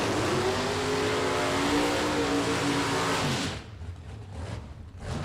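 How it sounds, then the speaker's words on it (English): A Ford Mustang drag racing car blasts down the strip at a super pro bracket event, its engine a loud, sustained roar that climbs in pitch for several seconds and then cuts off abruptly, leaving fainter track ambience. "And Rose goes on in his Mustang at 104"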